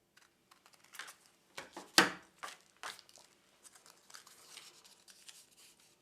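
Scissors snipping the paper tabs of a Christmas tree pop-up card, a close series of quick, irregular crisp cuts and paper rustles, one sharp louder snip early on, with no voices.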